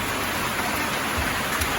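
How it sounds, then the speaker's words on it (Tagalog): Heavy rain falling on a farm with eggplant crops, a dense continuous hiss and patter that stays loud and unbroken throughout, with no voices. "umulan na ng malakas"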